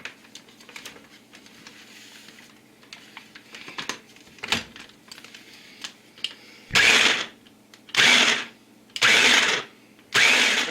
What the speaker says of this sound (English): you're just going to pulse it until it looks like coarse breadcrumbs here